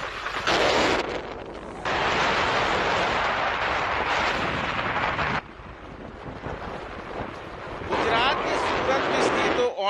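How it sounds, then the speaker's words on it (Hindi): A loud, continuous roaring rush of fire from an ONGC gas pipeline blast in Surat, broadband and steady, surging in bursts with brief dips, with no voices. "दहाड़ती हुई आवाज है ये आग।"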